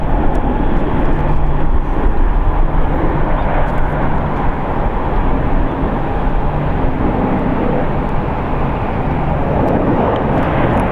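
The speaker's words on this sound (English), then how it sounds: "Arriving here is United Airlines Flight 1201 from San Diego. It's a 1 hour and 3 minute flight on a Boeing 737 MAX 9." A United Airlines Boeing 737 MAX 9 arriving at San Francisco International produces a continuous rumbling jet roar, steady and fairly loud with no speech over it.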